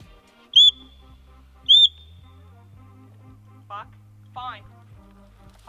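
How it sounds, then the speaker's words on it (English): A dog training whistle gives two short, sharp piercing blasts in quick succession, then someone talks quietly over a low background hum. "He'll stop and look at me when I blow the whistle."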